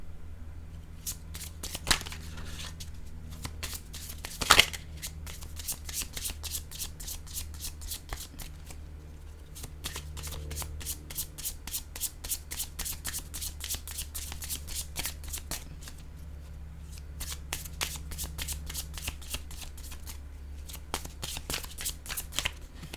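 A deck of cards is shuffled for a tarot-style reading, a long run of quiet rapid riffling flutters broken by short pauses and a single louder tap, close and soft with no talk over it.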